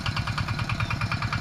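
Farm tractor engine running at a steady idle, a close, loud, rapidly pulsing chug with even regular beats and no voices over it.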